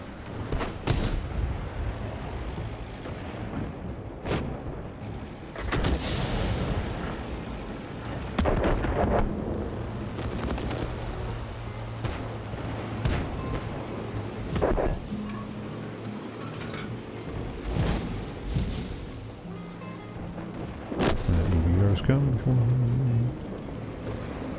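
Airstrike explosions in The 47%: Frontlines boom repeatedly across the battlefield amid gunfire and rumbling vehicles, with a heavy burst near the end, while players talk throughout.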